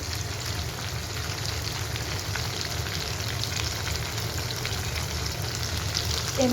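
Red chili powder sizzles in a frying pan of oil for a soyabean curry, a dense, even crackle of frying that continues close and unbroken.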